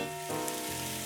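Onions and garlic frying in hot oil for chili, a steady close sizzle with a brief stirring shift partway through, no voices.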